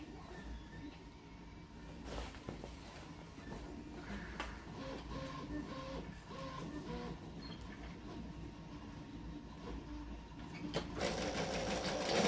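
Sewing machine stitching layered fabric for a retro apron, a rapid mechanical rattle running in short bursts with brief pauses as the cloth is fed through, close and steady, growing louder and harsher near the end.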